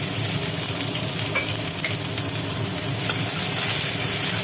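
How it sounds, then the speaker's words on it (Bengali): Onions fry in hot oil, giving a steady dense crackling sizzle that stays close and even throughout with small pops, alone without speech. "তেল গরম হয়ে গেছে এইবার ছেড়ে দিল তেলের মধ্যে পেঁয়াজ"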